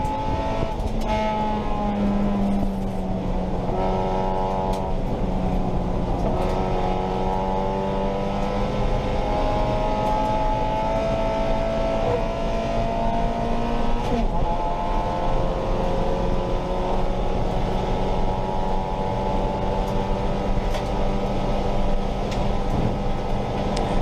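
A race car engine held at full throttle during a championship race roars loud and close for the whole stretch, its pitch rising and sliding between gears with no talking.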